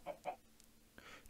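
A few soft, quiet clucks from chickens in Minecraft, two short close calls followed by a fainter pair, with no other sound around them.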